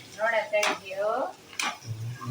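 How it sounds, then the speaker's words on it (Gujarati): A spoon scrapes and stirs sambharo in a pan on the stove, making short, close clinks and swishes while a voice talks over them. "આપણે સંભારો ને હલાવી લઈશું"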